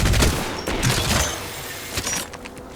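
Rapid bursts of gunfire in a shooter video game, loud close volleys at the start fading into scattered quieter shots and echoes.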